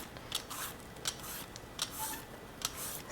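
A peeler scrapes the skin off a squash in a kitchen, making a series of quiet, close, rhythmic rasping strokes about once every half second, with no talking.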